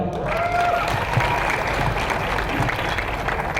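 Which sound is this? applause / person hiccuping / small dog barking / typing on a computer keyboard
applause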